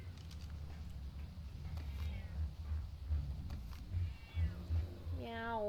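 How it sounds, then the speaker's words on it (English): A cat meows in a video game, several short rising meows late in the clip, the clearest one close and loud at the end, over a dull background rumble and soft footstep-like pats. "I have a kitty!"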